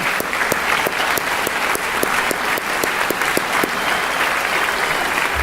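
An audience at an Ignite Lincoln event applauds the MCs with steady, dense clapping that holds loud and even throughout, with a few sharp individual claps standing out and no talk over it.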